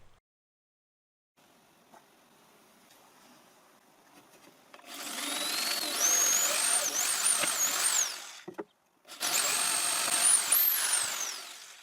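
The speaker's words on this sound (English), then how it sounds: "The holes I drill in the top strip are some wider than the screws." A power drill bores holes into a wooden clamp strip in two loud, close bursts with a whining, grinding tone, after a quiet start.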